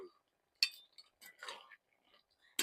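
A spoon stirs niramish lau ghonto, a vegetarian bottle gourd curry with chopped tomato, in a cooking pan, giving a few sharp, sparse metallic clinks separated by quiet gaps.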